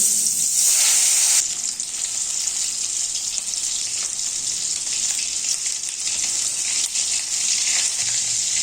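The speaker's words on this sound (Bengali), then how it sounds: "তেল গরম হয়ে গেছে এবার নুন হলুদ দিয়ে মাখা মাছগুলো দিয়ে দিচ্ছি এক এক করে" Fish pieces rubbed with salt and turmeric fry in hot white oil in a wok, producing a loud, bright hiss at first that settles into a steady, continuous sizzle with no voices.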